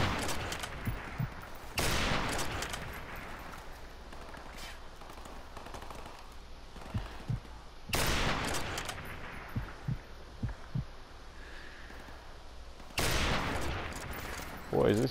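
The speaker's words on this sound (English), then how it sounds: "Boy, this sniper rifle kicks, don't it?" A sniper rifle without a silencer fires three loud, widely spaced shots from a rooftop in a video game, each a sharp crack followed by a decaying echo. Quieter game sounds fill the gaps between shots.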